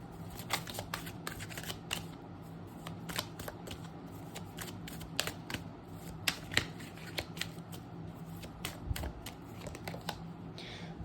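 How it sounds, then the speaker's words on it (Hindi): Tarot cards are shuffled and drawn, producing a steady, soft rustle of rapid riffles and flicking taps that continues for about eleven seconds, close and fairly quiet, with no talking. "बट एक बार कार्ड्स निकाल देते हैं"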